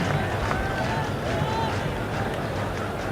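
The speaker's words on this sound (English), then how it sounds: "At least the crowd are making a noise now." Cricket crowd at a one-day international between Bangladesh and England, a steady distant murmur and hum of many voices, with a commentator talking over it.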